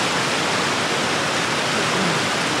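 Loud, steady roar of rushing, foaming white water at the Storfallsforsen rapids on the Lögdeälven river, a dense continuous broadband rush filling the whole clip with no voices.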